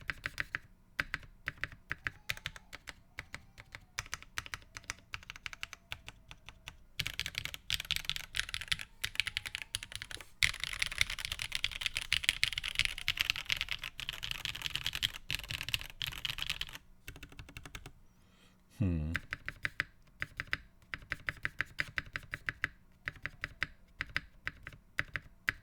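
Steady typing on a Frog TKL mechanical keyboard with Black Cherry Pie switches in the spacebar, a dense run of muted, close clicks and clacks that pauses briefly near the end before resuming.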